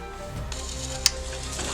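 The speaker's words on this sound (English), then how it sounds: "We're gonna roast the tomatillos, the serrano peppers, and the clove of garlic" Tomatillos, serrano peppers and a garlic clove sizzle steadily in a hot pan, a continuous close hiss with one sharp clack of a pan or lid partway through.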